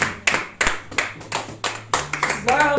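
A church congregation claps in steady rhythm to acclaim Jesus, about eight sharp, loud hand claps evenly spaced, with voices starting to sing at the very end.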